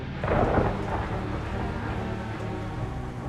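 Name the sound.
rain and thunder sound effect in horror story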